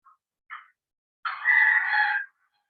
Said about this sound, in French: vous avez le coq dans cette vigilance qui vient battre des ailes et qui va également chanter